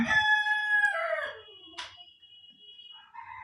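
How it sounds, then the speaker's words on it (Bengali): Roosters in a rural yard crow clearly and close by, one long cock-a-doodle-doo followed by shorter overlapping calls, with no talking. "এদিকে মোরগের ডাকও শুনতে পারছেন আমার মোরগ বাহিনী ডাক শুরু করে দিয়েছে"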